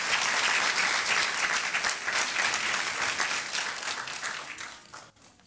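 A church congregation breaks into strong applause, dense and sustained clapping that fills the room, then gradually thins and fades out near the end.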